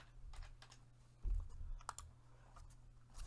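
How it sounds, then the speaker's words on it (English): Faint typing on a computer keyboard, scattered soft key clicks with a low steady hum beneath and one slightly louder thump partway through. "A keyboard. Always having keyboard problems when I'm on here."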